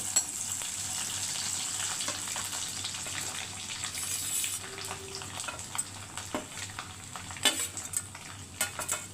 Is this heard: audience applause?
no